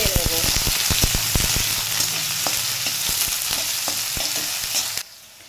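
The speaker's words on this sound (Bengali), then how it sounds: "ফোড়নটা দিয়ে আমি এবার আলুটা এর মধ্যে ছেড়ে দেব, আর আলুটাকে একটু ভেজে নেব।" Diced potatoes dropped into hot oil with tempered cumin seeds and green chillies, a loud crackling sizzle with stirring clatter that settles into a steady fry before cutting off abruptly near the end.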